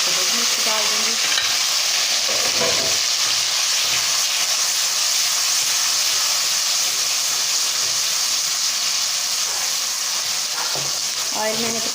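Onions fry in oil with tomato, garlic and green chili for a Karachi-style pulao, giving a loud, steady sizzle and hiss with occasional stirring scrapes, close up.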